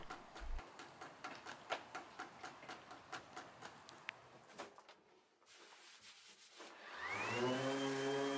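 A wooden coffee tabletop is sanded in quick, even back-and-forth strokes, a faint rhythmic rubbing. A pause follows, then a louder rising motor whine comes in at the end.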